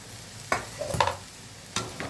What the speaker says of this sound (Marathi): आता त्यात आपण पोहे टाकणार आहोत.